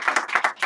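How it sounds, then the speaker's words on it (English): Audience applause at the 2024 Barrie Business Awards press reception, a short burst of several quick claps in uneven rhythm, close and fairly loud, with no talk. "He gets the applause."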